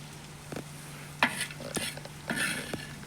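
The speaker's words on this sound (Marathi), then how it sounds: "ही आपली चटणी तयार झालेली आहे मी आता सुगड्यामध्ये काढून घेते" A spoon scrapes and knocks as rustic green chili thecha chutney is scooped into a small clay pot. A few short, close scraping strokes sound over a faint steady background hum.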